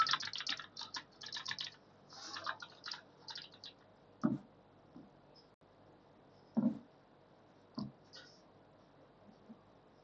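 A computer keyboard is typed on while text is entered into a document, a quick burst of close key clicks at first, then a few isolated louder keystrokes spaced apart.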